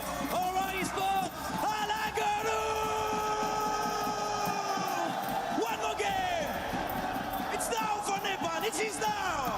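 A PMWC esports watch-party crowd keeps up a continuous loud roar of cheers, while an excited announcer talks over it throughout.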